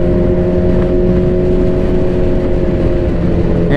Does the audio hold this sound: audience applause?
no